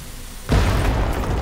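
Dynamite crate exploding in the video game The Cave: a single loud boom bursts in after a quiet moment and rolls on as a sustained rumble to the end.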